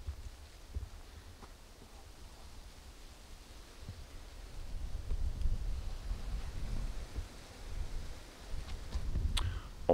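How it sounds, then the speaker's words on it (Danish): Gusty wind buffets the microphone outdoors on a trail, a steady low rumble that swells louder in the second half, with no talking. "hvis der er lidt støj i baggrunden, så er det altså fordi, der er dejligt blæsende herude."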